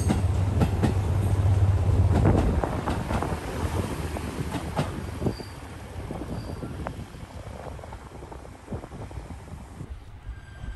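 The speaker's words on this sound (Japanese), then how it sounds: "さあようやく目的の列車がやってきました。" A local JR Kyushu train on the Kyudai Main Line rumbles in with a heavy low roar and rattling wheels, then eases off to a quieter steady rolling sound.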